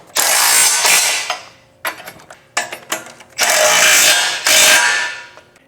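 Ratchet tightening 5/8 inch by 2 inch bolts during a Benetech MaxZone Plus installation, loud close bursts of rapid clicking strokes, several runs separated by short pauses, with no talking.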